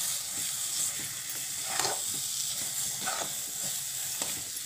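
Sweet potato puran filling with dry fruit powder and cardamom powder is stirred in a pan, giving a steady soft sizzle and scraping with a few louder stirring strokes, close and alone with no talk.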